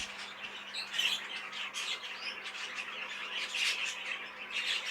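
A cinnamon cobalt cock budgie squawks and chirps steadily at close range, bright scratchy calls running continuously with no speech over them.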